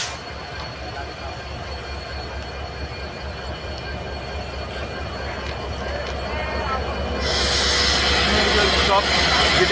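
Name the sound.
train arriving at station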